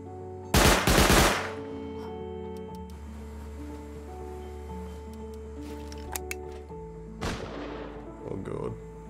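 A player fires a gun in Rust Console Edition: a loud rapid burst of shots early on, then a quieter stretch with a low hum, and a second shorter burst near the end.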